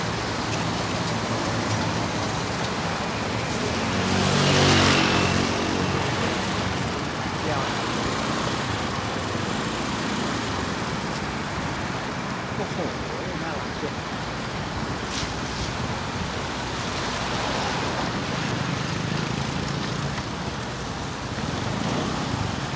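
Steady soft hiss of light drizzling rain falling outdoors in Thailand, even and continuous, with a faint swell of wind or water noise partway through.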